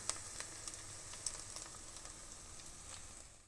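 Soft, steady sizzling of Ukrainian cheese pancakes (syrnyky) frying in a pan, with faint crackles and pops scattered throughout; no talking.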